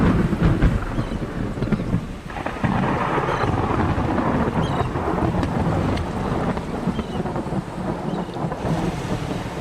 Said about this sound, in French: les éclats du tonnerre répondent à l'orgueil des hommes